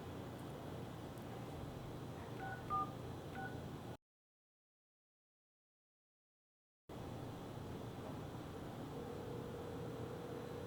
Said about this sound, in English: How about calling from my previous phone the Google Voice number I assigned to the S10?